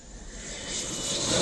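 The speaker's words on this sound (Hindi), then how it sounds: "पूर्वांचल एक्सप्रेसवे का ये हिस्सा फिलहाल अभी रोका गया है यहां पर, क्योंकि टेक ऑफ कर रहे हैं ये जो विमान" Military fighter jets, Sukhoi and Mirage, taking off from a closed stretch of the Purvanchal Expressway during an air force show; a loud, broadband jet roar swelling steadily as the aircraft accelerate, with no talking.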